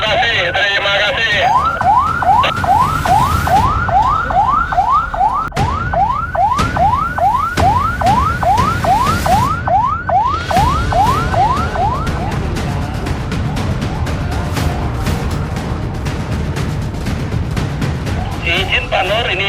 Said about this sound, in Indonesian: ambulans yang dari klinik SH Medika sudah nyampe ke lokasi